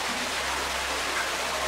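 Waterfall inside a cave in Nova Scotia, a steady dense rushing roar of falling water that fills the space evenly, with no voices.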